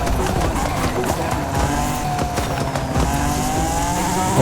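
A Honda NSX-R brakes hard in Forza Horizon 5, its tires squealing under a steady engine roar and road noise, continuous and loud throughout.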